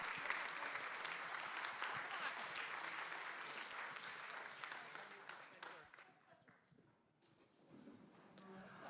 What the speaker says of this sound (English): I would love to hear one more roaring round of applause for all the generosity here this afternoon